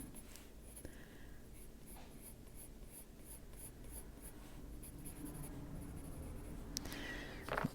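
Colored pencil shading on paper, a steady scratchy rasp of the lead with rhythmic strokes, close and fairly quiet with no talking.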